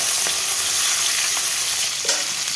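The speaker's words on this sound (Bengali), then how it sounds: "মাছের মাথাগুলো আমি সবগুলো ভেজে নেব এইভাবে" Fish heads frying in hot oil in a wok: a loud, continuous hiss of sizzling oil with a few sharper pops and crackles, alone and up close.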